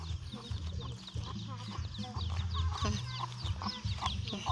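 Farm chickens cluck and chatter in a steady, moderately faint flock chorus with rooster-like calls, recorded outdoors around a rural Thai home with low background rumble.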